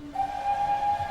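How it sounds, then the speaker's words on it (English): A steam engine whistle from Thomas & Friends gives one sustained, clear, steady tone that starts just after the clip opens and holds to the end over a quiet backdrop. "Then, Gordon heard a worrying whistle."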